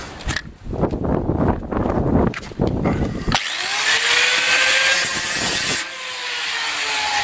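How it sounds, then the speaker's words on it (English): A screwdriver pries and scrapes at a microwave oven's casing during a teardown, giving loud, close grinding and rubbing. A sharp crack follows, then a ringing, scraping metallic sound that carries on steadily to the end. "Pop with the screwdriver."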